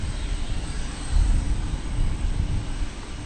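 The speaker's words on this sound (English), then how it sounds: "This is American Flight 1034 coming in from Guadalajara." An American Airlines jet arrives at DFW airport, heard as a low, steady, moderately distant rumble that swells briefly before easing off. No voices.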